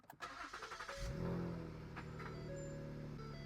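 A 2015 Ford Taurus engine cranks with a few rapid starter pulses, then catches and settles into a steady, close idle.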